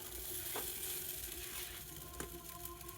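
Homemade, chemical-free sauce goes into a hot pan of restaurant-style noodles, giving a steady close sizzle with a couple of brief stirring knocks and no talking.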